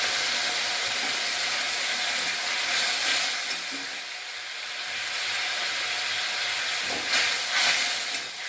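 Water poured over chopped tomatoes in a hot pan sets off a steady, loud sizzling hiss that runs throughout, swelling and easing slightly with brief bursts of spitting near the end.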